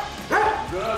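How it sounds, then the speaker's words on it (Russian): A single short dog bark or yelp, fairly close, over faint background noise; a voice is also audible. "Вон там собака."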